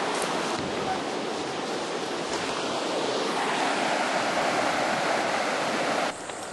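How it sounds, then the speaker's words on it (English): Water in a creek flows along a half-mile stretch outdoors. It makes a steady, broad rushing wash close to the microphone, with faint wind. "There's about a half mile strip of the creek here."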